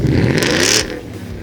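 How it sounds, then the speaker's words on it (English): A Ford F-150 pickup with a Borla Attack stainless steel exhaust gives a short, loud rev with a raspy engine note that falls away after a moment. "we added a Borla Attack exhaust system to give our truck a more aggressive sound."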